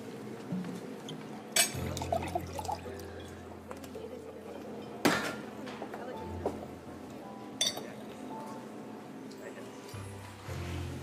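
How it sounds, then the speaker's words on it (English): Chardonnay wine is poured quietly, with soft liquid trickling and a few sharp glass clinks over a low room hum. "I can pour a really mean Chardonnay."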